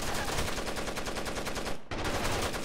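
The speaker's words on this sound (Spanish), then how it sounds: "Pero está guapísimo lo del disparo a ciegas" Rapid automatic blind-fire from a P90 in the video game Rainbow Six Vegas 2, a dense, continuous stream of loud gunshots with one brief gap before the burst resumes.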